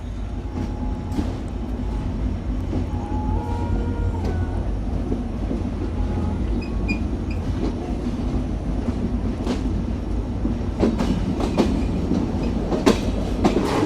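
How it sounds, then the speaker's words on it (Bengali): A Benapole Express train from Dhaka rolls steadily along the rails, a continuous low rumble with rhythmic clacks and a few sharp metallic clicks, close and moderately loud throughout. "লম্বা হর্ন আমাদের ট্রেন ছেড়ে দিল তার গন্তব্য বেনাপোলের উদ্দেশ্যে"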